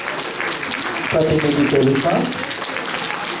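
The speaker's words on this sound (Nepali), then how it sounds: "हामी ताली बजाउनेछौँ।" A church congregation at a 25th anniversary gathering in Kathmandu bursts into applause, clapping swelling for about a second then tapering, with a voice speaking over it.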